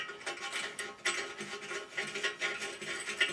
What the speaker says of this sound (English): Let's just thread the other one in here.